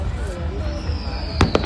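Fireworks over Vancouver, BC, with a steady distant rumble and a quick run of sharp bangs near the end, while people talk faintly in the background.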